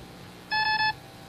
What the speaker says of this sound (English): Then you shouldn't have pressed your buzzer.